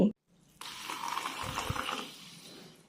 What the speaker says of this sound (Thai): เสียงโซดาสะใจมาก